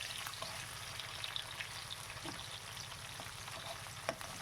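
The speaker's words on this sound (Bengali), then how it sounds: "তেলের সাথে ভালো একটু ফ্রাই করে নিচ্ছি" Carrots sizzle steadily in hot oil in a pan (kadai), a continuous crackling fry with small pops and occasional stirring clinks throughout, moderately loud with no talking.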